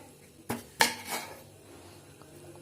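Knife chopping elephant foot yam into thick pieces on a board, a few sharp cuts and knocks spaced apart, close and clear with no talking.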